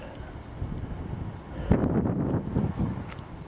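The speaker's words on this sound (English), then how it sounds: "Oh, it's very breezy up here." Wind blows across a hilltop monument above Shumen, Bulgaria, rumbling and buffeting close against the microphone in uneven gusts that strengthen midway, with no talking.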